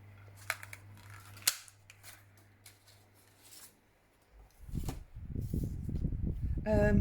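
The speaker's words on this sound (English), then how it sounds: "I'm just gonna use my circle punch to cut him out, because I'm absolutely rubbish at cutting circles." A few sharp, close snaps sound as a circle punch cuts a round stamped image out of paper. They are followed by quiet rustling, and then a voice begins speaking near the end.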